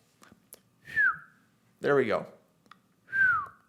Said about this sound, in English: It's too early to wolf whistle.